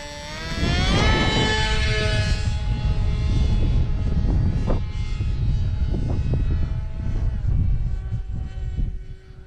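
Value Hobby Condor X-75, a light little RC plane, drones overhead with a steady buzzing propeller engine that swells loud after the first second and holds, its pitch shifting as it passes.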